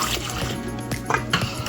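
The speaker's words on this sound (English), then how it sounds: "We'll pour some water" Water being poured into bambara nut flour in a bowl while preparing Nigerian moi moi, a steady close-up liquid splashing and trickling with a few small clinks of utensils against the container.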